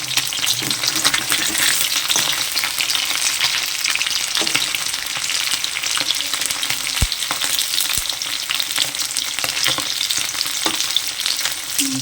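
Paneer fries in a pan with a steady, dense sizzle and crackle that continues without a break, close up, and no one speaks.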